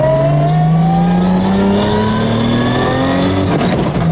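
A 1500hp Toyota Supra engine revving hard under acceleration, pitch climbing steadily through a gear, then a quick shift near the end, loud and close throughout.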